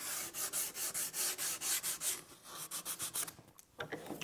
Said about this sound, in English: grab some sandpaper and kind of grind away some of those little fuzzies that are left over